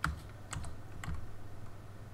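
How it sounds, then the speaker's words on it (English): A computer keyboard is slammed during a gaming session, with a few sharp, close key strikes in separate bursts over a quiet background hum. "you're slamming into that fucking keyboard"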